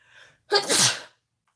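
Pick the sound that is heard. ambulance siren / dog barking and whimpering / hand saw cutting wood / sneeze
sneeze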